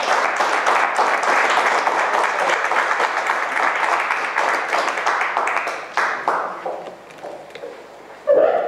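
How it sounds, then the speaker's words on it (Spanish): An audience at a world citizens' convention gives loud, sustained applause that thins out and fades over several seconds, with a brief sound at the very end. "Solicito para todos ustedes y para todos los que nos están mirando en las redes sociales un caluroso fuerte aplauso, por favor"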